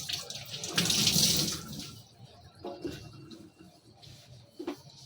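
Tap water running into a kitchen sink while dishes are washed, a loud rushing stream at first, then stopping and giving way to soft clinks, drips and handling sounds.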